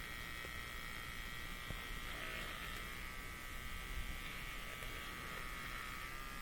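Electric shaver used to shave glue off a flying fox, giving a steady, faint, buzzing motor hum throughout with small shifts in pitch.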